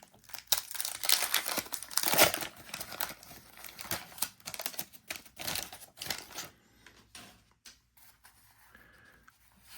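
Crinkly plastic wrapper of a 1982 Fleer baseball card pack is torn and crumpled open at close range, a dense run of crackling bursts for several seconds before tapering off into lighter rustles.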